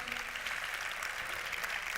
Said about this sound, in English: give another round of applause for all of you